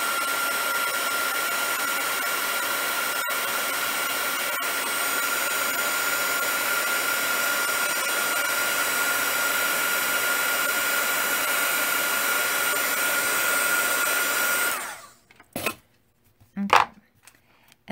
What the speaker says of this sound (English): We'll give it a quick shot with the embossing tool.